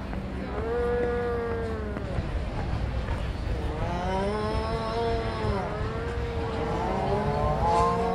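Cattle mooing repeatedly in a dairy barn at the Minnesota State Fair, long drawn-out lowing calls overlapping one another against a steady background hum, fairly close and loud.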